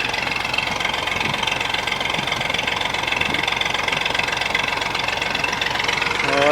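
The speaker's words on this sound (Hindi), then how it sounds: "ये ट्रैक्टर चल रहा है।" A tractor engine drives a tubewell pump in rural summertime Pakistan, a steady close-up knocking drone that runs evenly throughout, loud and continuous with no pauses.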